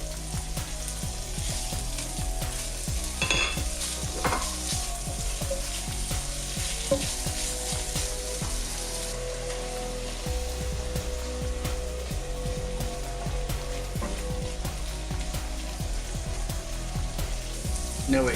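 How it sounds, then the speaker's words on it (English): Bacon and chopped onions fry in a pot, giving a steady crackling sizzle with scattered pops and occasional stirring scrapes throughout, fairly close and continuous with no voices. "Now it's time to go in with the bacon."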